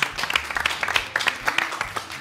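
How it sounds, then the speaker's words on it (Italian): Applause from a studio audience on an Italian TV quiz show, with scattered sharp claps over a steady patter, brief and fairly close. "Un applauso al Ciro."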